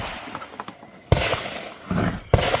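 A Canik Combat pistol fired outdoors, with three loud, sharp shots spaced over about two seconds, each followed by a brief echoing tail.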